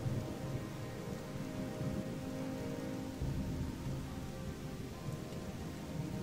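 Rain and thunder in the video game Gothic 2 make a steady, even hiss of downpour with low thunder rumbling underneath, continuous and fairly quiet, with no talking.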